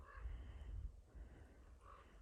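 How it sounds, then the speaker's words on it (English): Crows cawing outdoors in a snowy yard by a side street, a few harsh calls rising over low wind rumble, fairly faint and at middle distance. "No shortage of crows"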